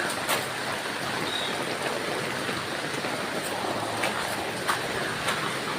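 Steady rain falls on an outdoor nutmeg tree plantation, a dense, even hiss that holds throughout with no voices.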